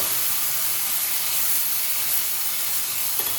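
Lemon juice mixed with turmeric hits a hot pan of sautéed lemon-rice seasoning, releasing a steady, close, hissing sizzle like escaping steam that holds even for a few seconds with no talking.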